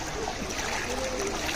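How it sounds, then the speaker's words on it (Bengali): Floodwater rushes in a steady current across a submerged area near a drowned pond in eastern Chandanaish, Chattogram, a broad, continuous wash of flowing water heard close and fairly loud, with no distinct voices. "দেখুন এখানে কি পানির স্রোত।"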